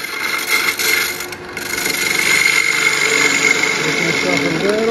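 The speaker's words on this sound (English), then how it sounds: "I take this little thin spindle gouge, get myself a little bit of room on this side" Thin spindle gouge cutting into a small wood mouse spinning on a lathe, a steady close scraping hiss that builds and grows denser toward the end.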